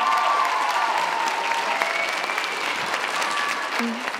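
An audience claps steadily at a high school talent show finale, a dense, moderately loud round of applause with faint voices and a few whistles mixed in.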